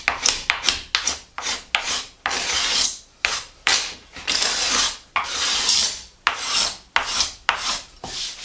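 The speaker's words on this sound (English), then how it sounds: "that squeaking you're hearing is where I'm hitting a little bit of glue" Repeated strokes of a scraper on a wooden tabletop rasp in an uneven rhythm, close and bright, with squeaky, gritty edges on several passes where the blade hits dried glue; no talking.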